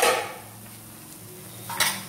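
A metal lid lifted off a cooking pot of simmering spinach and greens soup, with a clattering clink at the start and another bright metallic clank near the end, quiet between.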